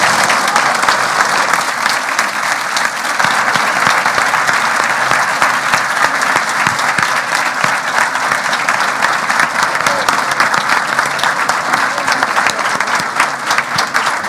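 A large audience at the XXI Encuentro COORDIEP 2023 conference claps loudly and steadily after a talk, dense sustained applause throughout with no break.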